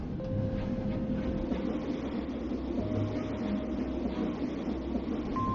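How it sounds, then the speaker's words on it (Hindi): A cartoon train rumbles along loudly in a steady, continuous clatter with a faint whistle-like tone running over the low roar. "रेलगाड़ी जोरदार आवाज करते हुए चल रही है।"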